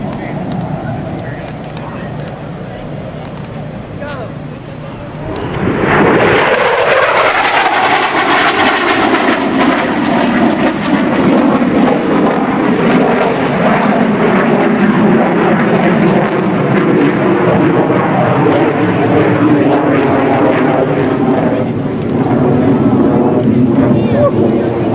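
A CF-18 Hornet fighter jet roars past at the 2004 NAS Oceana airshow, its engine noise swelling suddenly and then staying loud and sustained as the jet pulls hard, while an announcer talks over it.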